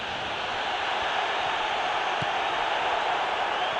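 A stadium crowd in the World Soccer Winning Eleven 2015 video game roars as a steady, broad wash of cheering at an even level throughout.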